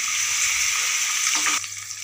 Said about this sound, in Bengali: এর মধ্যে আমি দিয়ে দেবো 1 গ্লাস মতো জল